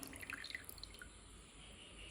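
Water dripping off a pappadam just dipped in a bowl of water while making Kerala pappada ada, a faint patter of small drops close by with no talking.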